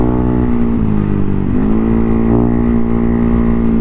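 Yamaha Mio i 125 motorcycle fitted with a Sniper throttle body and a 4-valve 200cc build, revving loudly up close with quick throttle blips rising and falling over a steady engine drone.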